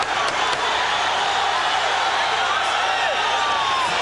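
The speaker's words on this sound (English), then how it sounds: "Crowd sensing the predicament here of Garnett and urging Leija on." A boxing arena crowd roars steadily throughout late in round six of a Jesse James Leija versus Rodney Garnett bout, a dense continuous wash of cheering and shouting urging the fighter on.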